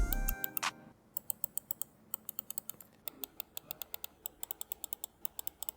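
A rapid series of sharp, crisp clicks close up from a Zowie EC3-CW gaming mouse, many in quick succession with an uneven rhythm, like buttons being pressed repeatedly.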